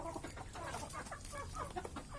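Free-range native village chickens cluck on a semi-free-range farm, several hens calling near and overlapping in a busy, continuous stream of short clucks.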